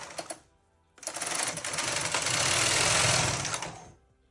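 A Brother KH 260 knitting machine carriage slides across one full row, a loud continuous mechanical rush of about three seconds, preceded by a brief clack or two.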